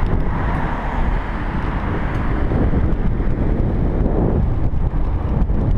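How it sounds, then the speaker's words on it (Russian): Strong wind buffets the microphone on a bicycle ride outdoors in Japan on a warm summer day, a steady loud low roar with no let-up and no voices. "Сейчас, в принципе, достаточно ветреная погода, но ездить все равно приятно."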